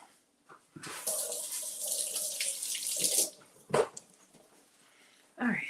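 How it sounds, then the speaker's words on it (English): Running tap water pours into a sink as something is rinsed under it, a steady broadband rush for about two seconds, then brief splashes and clatters, with a faint dog whimper at the end. "let me rinse this off."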